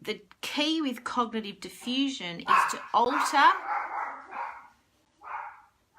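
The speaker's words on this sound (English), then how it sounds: "Buddy's found something else to bark at." A dog barks off in the background while someone speaks calmly in the foreground, the barks brief and partly buried under his voice.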